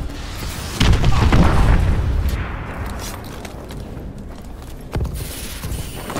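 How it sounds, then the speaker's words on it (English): Enemy missile strikes in Call of Duty Advanced Warfare Hardpoint, a heavy booming blast followed by rumbling and scattered pops, then a second sharper explosion near the end. "Enemy missile strikes"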